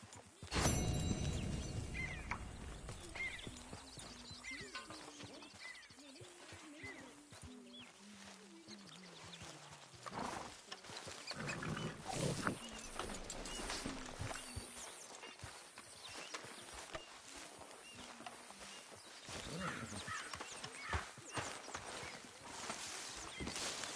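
Horse hooves clip-clop at a steady riding pace in Red Dead Redemption 2, a faint rhythmic thudding that continues under quiet background sound and music.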